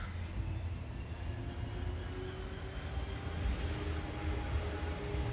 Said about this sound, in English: And that's the trash truck.